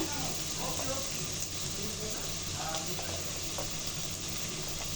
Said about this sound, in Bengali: কাঁচা মশলাটা ভালো করে একটু ভেজে নিব।